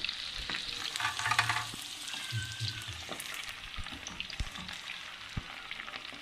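Chicken boti pieces fry in oil over medium heat, a soft continuous sizzle with occasional stirring scrapes and clinks, close and fairly quiet with no talk.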